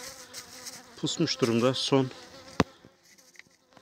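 Honeybees in a weak winter hive that bumblebees have raided, buzzing close by, with a Turkish-speaking beekeeper talking over the hum and a sharp click partway through.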